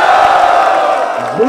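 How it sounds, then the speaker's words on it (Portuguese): Loud crowd roaring and shouting at a Brazilian freestyle rap battle semifinal, a dense continuous cheer filling the space with a raised voice or whoop rising near the end. "Barulho para Zuluzão!"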